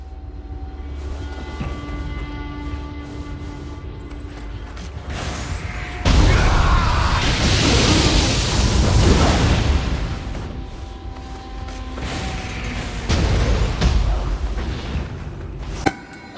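An explosive shot fired in the action game Nioh 3 lands as a loud, booming burst over a steady mechanical game backdrop, with a second surge of blast noise later on and no talk.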